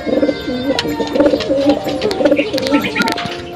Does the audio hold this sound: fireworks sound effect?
no